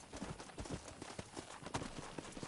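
Horse hooves clip-clopping in the western video game Red Dead Redemption, a quiet, steady run of close hoofbeats throughout.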